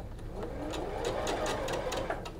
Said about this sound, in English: a leftover scrap that you feed under your sewing machine and just stitch on it